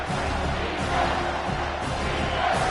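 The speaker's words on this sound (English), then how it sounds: "3rd down, and this crowd is tearing the lid off this place." Stadium crowd in an NCAA college football video game roars steadily on third down, a dense sustained wall of cheering and yelling that swells slightly throughout.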